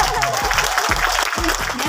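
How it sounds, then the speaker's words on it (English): A crowd applauds steadily at a housing development launch event, dense clapping filling the whole stretch with a voice faintly mixed in underneath. "Let's give a round of applause for Engineer Boyan Camilo!"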